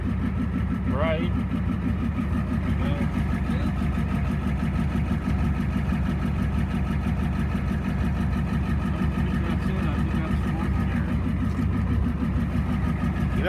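A 1989 Ford F-350 dually with a 7.3 IDI diesel engine running just after its first start in years, a steady, loud, rhythmic clattering idle close by, with people talking over it.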